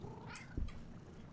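A cat gives a short, faint meow over a low, steady background hum in a horror video game, brief and alone, with no voices.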